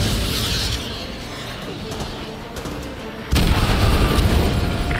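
ADM missile strikes in the video game Call of Duty Modern Warfare 2 rumble as heavy booms over steady battle noise, with a sudden loud blast late on and a voice talking beneath.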